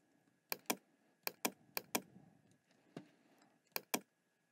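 Computer keyboard keys are pressed in short separate clicks, often in quick pairs like a two-key shortcut such as Ctrl+D, close and crisp in an otherwise quiet room with no talk.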